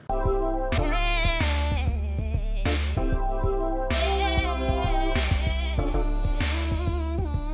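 A looping hip-hop beat with heavy bass, punchy kicks and periodic crash-like hits over a layered melodic backing, steady and loud throughout.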